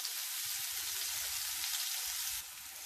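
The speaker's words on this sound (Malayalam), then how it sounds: "ഇതിലേക്ക് ചതച്ചി വെച്ചിരിക്കുന്ന ഉള്ളി ഇട്ട് കൊടുക്കുന്നുണ്ട് കറിവേപ്പില ഇട്ട് കൊടുക്കാം" Crushed onion and curry leaves fry in hot coconut oil with a dense, steady sizzle and faint low bubbling, the hiss dropping slightly near the end.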